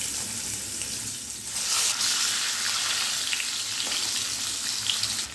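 Eggs fry in hot oil with a steady, dense sizzle that swells slightly partway through and continues close and loud with no talking.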